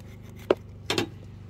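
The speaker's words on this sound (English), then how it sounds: "We cut that hunk of fat off." A knife trims a hunk of fat off butchered deer meat in two short, close scraping cuts separated by a quiet pause.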